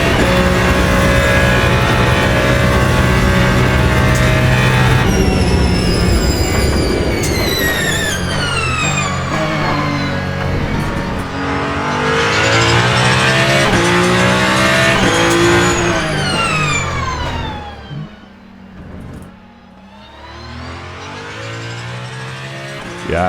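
A race car in the video game Le Mans Ultimate holds a loud, continuous engine roar that climbs through gears and drops off on lifts into corners, briefly dipping near the end before revving back up.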